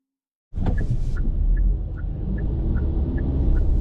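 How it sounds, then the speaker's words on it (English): A 2025 Kia K4 EX cruises on the road, heard from inside the cabin as a steady low rumble of engine and tyres that starts abruptly, with a faint periodic chime ticking above it. "we're rolling on the road in this K4 EX"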